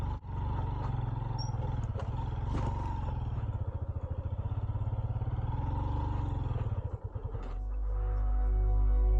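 A motorcycle engine labouring uphill at high altitude in Basho Valley near Skardu, losing power; a continuous close rumble with uneven pulsing that rises and strains, then settles into a lower drone near the end.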